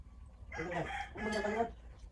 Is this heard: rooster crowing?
yes